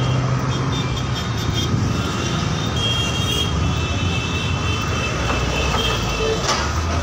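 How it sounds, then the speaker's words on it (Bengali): A tram approaching along a busy Kolkata street, a loud steady rumble with rail and traffic noise, close to the listener, with no talking. "ওই যে একটা ট্রাম আসছে"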